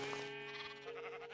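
Sheep bleating in the Minecraft video game, a steady wavering bleat that carries through the whole short moment, loud and close with no talk over it.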